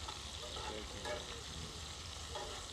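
A ribeye steak sizzles in a cast iron skillet on a Camping Gaz cooker, a steady, crackling fry with small pops, quiet and continuous throughout.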